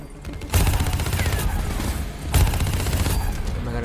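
Gunfire from the Call of Duty Black Ops 3 campaign: two heavy bursts of rapid shooting land about two seconds apart, with a loud sustained rumble of continuous fire in between.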